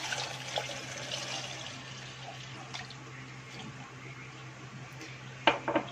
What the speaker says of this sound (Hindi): ये दूध जो है ½ लीटर, ये ऐड करेंगे।